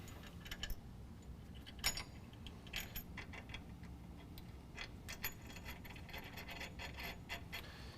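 A wrench tightens nuts onto carriage bolts on a Go Rhino BR5.5 front winch bumper bracket for a 2019 Chevy Silverado 1500, giving faint metallic clicks and ratchety ticks in irregular bursts against quiet background noise.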